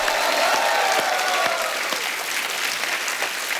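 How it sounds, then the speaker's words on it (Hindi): Loud studio-audience applause for the late singer on The Kapil Sharma Show, a thick burst of clapping that begins strong and eases slightly while continuing steadily through the short stretch. "एक बार जोरदार तालियां हो जाए उनके लिए"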